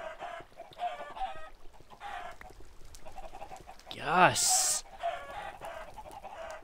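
Minecraft chickens cluck in short repeated bursts, joined by a louder squawking call midway, near and clear over game ambience; a voice briefly speaks.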